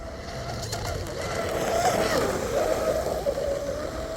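A Tenshock EVO 2240 2050kv brushless motor on an RC boat whines steadily at a distance, its pitch wavering slightly as it runs, over a constant outdoor rush of air and water.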